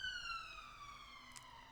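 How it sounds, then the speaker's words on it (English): Police siren wailing at a distance in a city, a faint, steady falling tone with harmonics that carries through the whole short stretch, alone and without talk. "makes me laugh that there's a police siren on this"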